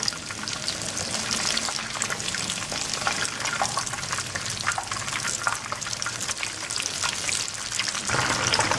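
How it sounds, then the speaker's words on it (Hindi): Chicken wings fry in hot oil over a low flame, a steady dense sizzle and crackle running throughout with no pauses, fairly loud and close. "अब दूसरी तरफ को भी इसको होने दें ताकि ये दोनों तरफ से फ्राई हो जाए"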